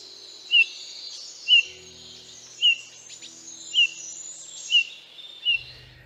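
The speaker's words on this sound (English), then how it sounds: "their most common noise is a single note call that sounds like this" A bullfinch gives a soft, single-note call, repeated six times at roughly one-second intervals, clear and fairly close against a quiet background.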